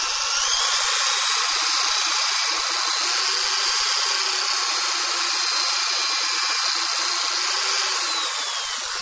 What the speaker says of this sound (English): we're just going to take and drill